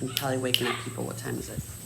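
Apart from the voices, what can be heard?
No distinct noise like a dog, phone or traffic.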